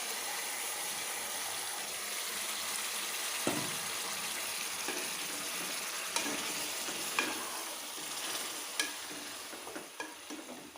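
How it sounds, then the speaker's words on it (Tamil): Coarsely ground coriander paste with garlic and ginger being mixed in a pan for coriander rice, a soft steady sizzle broken by occasional spoon scrapes and taps, close and quiet. "பூண்டு இஞ்சி எல்லாம் போட்டு இது நல்லா கலந்து விட்டுக்கோங்க."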